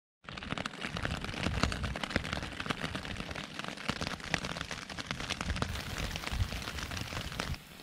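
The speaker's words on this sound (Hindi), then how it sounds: "बारिश का पानी देखो पूरा इधर बह रहा है" Heavy rain during a storm drumming on a camping tent in India, a dense, continuous crackling patter heard from inside, steady throughout with no talk.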